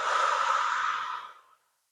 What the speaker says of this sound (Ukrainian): І видих.